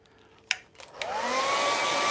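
A hair dryer blows onto wet paint on a waterfall painting, switching on after a few brief clicks and handling knocks and then running steadily as a loud, continuous whirring roar.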